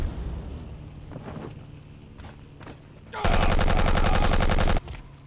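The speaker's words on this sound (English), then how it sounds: "I'm hearing a lot of ricocheting bullets all around, so I'm being fired upon or sniped at." Gunfire and ricocheting bullets in the Battlefield 1942 video game on the Alamein map, scattered close shots and impacts followed by a loud sustained burst of rapid automatic fire lasting under two seconds, with no talk.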